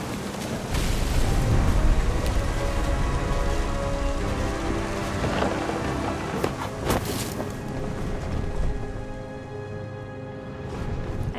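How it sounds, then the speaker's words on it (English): Thunder and rain in the game What Remains of Edith Finch, steady heavy rain drumming on surfaces with a deep rumbling boom building underneath, continuous and fairly loud throughout. "The thunder sounded much too close and full of angry power"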